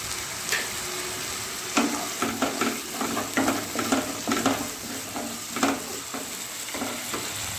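Spices frying with chopped tomato in a pan for a Bengali fish head curry, a steady sizzle broken by repeated scraping stirs of a spatula.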